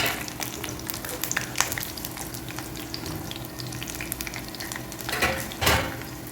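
Wheat and potato stick snacks deep-frying in hot oil, a continuous crackling sizzle with scattered sharp pops and a couple of louder stirring or scraping bursts near the end.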